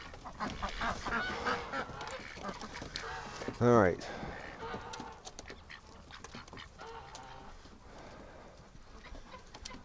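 Ducks and geese being herded into their building on a bitterly cold winter morning give one loud, close honking call partway through, with a person talking over scattered bird sounds and outdoor noise.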